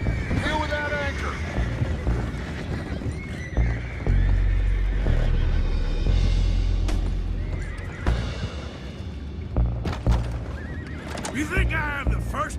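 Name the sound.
horses neighing, Red Dead Redemption 2 video game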